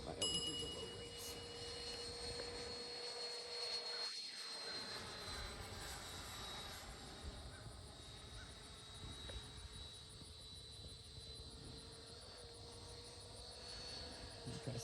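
Faint, distant whine of a Freewing F-104 90mm high-performance RC jet flying on its maiden flight over a grass field, a sustained engine tone that briefly swells and fades as it passes.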